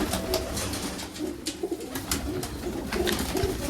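Pigeons coo repeatedly in soft, throaty calls at close range, several birds overlapping over a low background hum with no talking.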